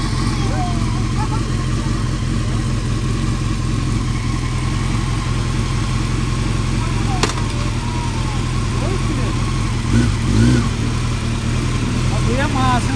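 A motor engine runs steadily nearby with a low rumbling idle, a few brief revs rising over it, and faint voices in the background.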